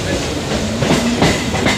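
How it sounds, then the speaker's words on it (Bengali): Howrah to Bardhaman local train running on the tracks near Bally, with loud rhythmic clickety-clack of wheels over rail joints and a rumbling carriage, heard close from inside. "চলো যাই কতক্ষণ লাগে দেখি আজকে এই ট্রেনের"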